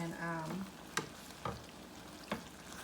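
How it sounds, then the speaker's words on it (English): Potatoes sautéing in a skillet as their juice cooks off give a soft, faint sizzle with a few sharp clicks of stirring, while a voice speaks briefly at the start. "You just want to kind of soak in all the juice into the potatoes and let it kind of saute into it."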